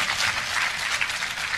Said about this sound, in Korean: 웬만해 큰 박수가 나옵니다.